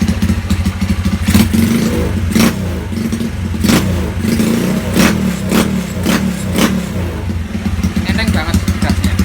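A bored-up Honda GL Pro motorcycle engine, noisy and smoking, revs in repeated throttle blips over a clattering idle, loud and close, with people talking over it.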